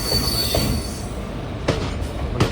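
An Intercity Express train rolls along the track with wheel squeal and steady rumble, close by, plus a few sharp clanks near the end; no one speaks.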